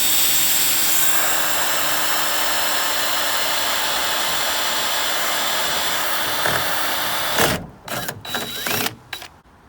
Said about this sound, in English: So I'll drill a hole here.